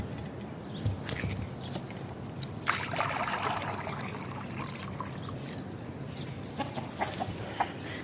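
Chickens cluck and murmur nearby as they are given water, with occasional louder squawks over a busy farmyard background.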